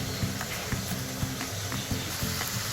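Chhana kofta masala sizzles and fries steadily in a pan, a continuous crackling hiss with soft rhythmic scrapes of stirring every fraction of a second.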